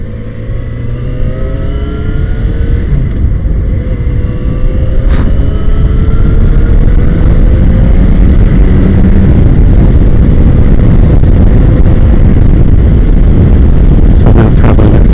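A Yamaha XJ6F motorcycle cruises at about 50 mph, its engine droning loud and continuous beneath heavy wind roar, with rising pitch sweeps early on.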